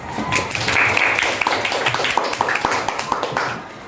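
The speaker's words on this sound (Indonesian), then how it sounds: "Oke, beri aplaus." Audience in an Islamic study class claps for several seconds, a dense round of applause with scattered individual claps standing out toward the end.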